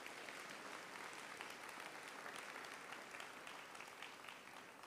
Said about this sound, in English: Let's give a round of applause to EPRC.